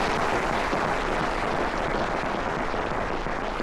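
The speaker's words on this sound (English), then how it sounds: "give them a big round of applause right now" Audience on a cruise ship's military appreciation carnival night applauds Medal of Honor recipients, a dense, steady wash of many hands clapping at close range with no pauses.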